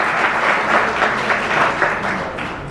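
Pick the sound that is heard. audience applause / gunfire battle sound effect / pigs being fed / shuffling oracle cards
audience applause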